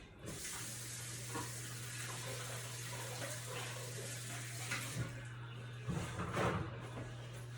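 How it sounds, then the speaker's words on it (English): Hands being washed under a running kitchen tap, a steady close rush of water with a faint low hum underneath and brief splashing bursts near the end, with no talking. "So I'm just going to wash my hands."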